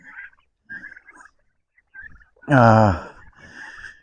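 Meat turkeys call nearby with soft clucks and chirps, then one gives a loud, rattling gobble followed by quieter calls.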